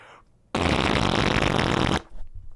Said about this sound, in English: I'm going to fart in your face now.